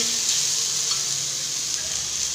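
Onion and capsicum frying in a pan for a capsicum rice lunch box dish, a steady close sizzle with bright crackling hiss throughout and no talking.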